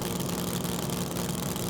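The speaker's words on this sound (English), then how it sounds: "You'll hear these cars build the revs big time." A drag racing car's engine holds a steady, continuous rumble at the start line in cool conditions, with the revs sustained rather than rising in sharp bursts.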